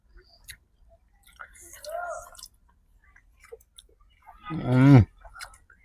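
Someone chews soft paneer pieces outdoors with friends, making faint, close, wet mouth clicks and smacks, with a short voiced hum of enjoyment near the end.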